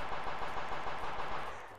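Rapid automatic gunfire in a video game, a fast, even string of shots that rattles close and loud, then tapers off toward the end, with no talk.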